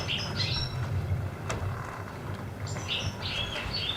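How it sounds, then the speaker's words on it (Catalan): Small birds chirp and tweet in scattered bursts at a moderate distance over a steady low background hum, with a brief sharp sound partway through. "I no sents uns ocells?"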